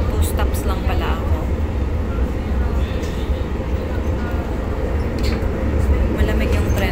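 Metro train ride in Malaga, Spain: a steady low rumble of the carriage in motion runs throughout, with a voice talking over it.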